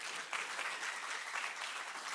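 Applause from an audience at a talks event, a steady wash of many hands clapping at moderate distance, filling the whole stretch without speech.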